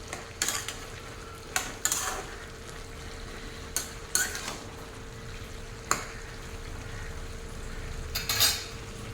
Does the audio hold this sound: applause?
no